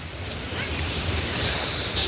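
Water pours steadily over a waterfall beside a lit homestay path, a dense, continuous rushing wash, fairly close, that swells slightly louder in the second half.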